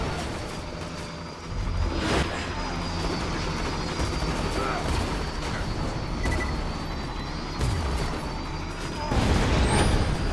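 Explosion in the Borderlands 2 video game, a broad booming blast amid continuous loud game noise, with further rumbling bursts later over a steady chaotic background.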